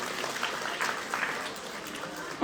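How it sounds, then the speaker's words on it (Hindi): Applause at a welcome ceremony for a newly appointed account officer, a broad crackle of many clapping hands at moderate level, steady across the short stretch and ending in a sharp louder burst. "तो एक बार उनके लिए भी जोर से तालियां।"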